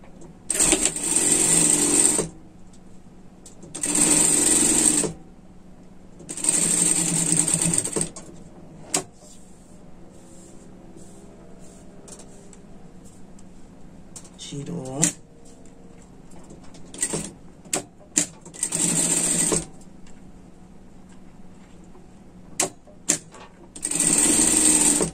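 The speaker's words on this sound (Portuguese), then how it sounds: "Joga a costura aqui pra cá e vamos prespontar." A sewing machine topstitches a seam on a pet sweater in several short bursts of rapid stitching, separated by pauses with quiet handling and a brief voice.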